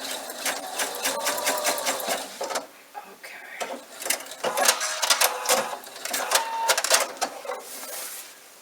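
A home sewing machine stitches fabric for a bunny bag, its needle chattering in quick rapid bursts with short pauses between runs, close and fairly loud, with no talking.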